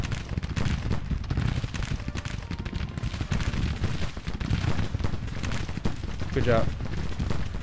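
Zouave infantry musket volleys in the Civil War strategy game Grand Tactician, rolling bursts of gunfire and dull booms on a noisy battlefield, with someone talking over the shots.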